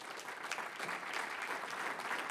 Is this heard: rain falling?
no